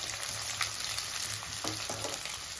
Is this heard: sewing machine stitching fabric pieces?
no